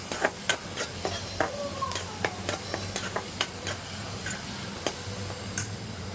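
Spiced tempering for gongura chicken frying in hot oil, a steady close sizzle broken by sharp stirring clicks and taps of a utensil against the pan.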